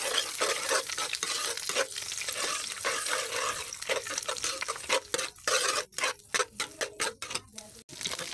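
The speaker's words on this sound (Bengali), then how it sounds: "এখানে সামান্য পরিমাণ লবণ দিয়ে ডিমটাকে একদম ভেজে নেব।" A duck egg fries in oil on a tawa with a bright crackling sizzle, while a spatula scrapes and taps in quick strokes that grow sharper and more rhythmic toward the end.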